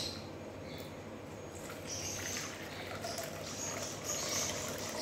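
Water poured from a bowl into rice flour in a large vessel, a steady close splashing trickle over faint background bird calls.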